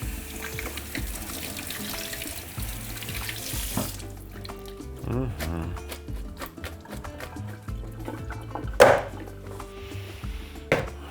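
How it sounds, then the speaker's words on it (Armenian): Beef ribs are rinsed under a running hot water tap at a kitchen sink, with a steady gush for the first few seconds, then scattered knocks, clatter and handling sounds as the water stops and starts. "Կարելի է տաք ջրի տակ լվանալ"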